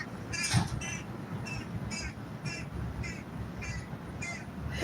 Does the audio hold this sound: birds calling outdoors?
yes